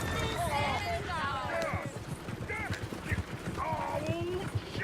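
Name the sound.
horse-drawn coach hooves clip-clopping in Red Dead Redemption 2 video game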